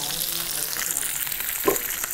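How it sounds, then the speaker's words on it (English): Snow peas and sugar snap peas stir-fry in a hot pan, giving a steady hiss and sizzle, with a brief clatter of stirring near the end. "can you keep stir frying this for me?"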